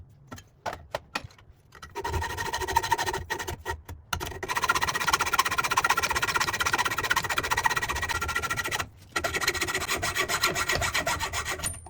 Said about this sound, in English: I already started using my metal hacksaw and I'm cutting the weld off